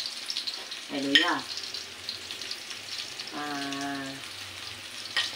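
Garlic sizzles steadily in a hot pan, close and moderately loud, with brief voice sounds over the frying.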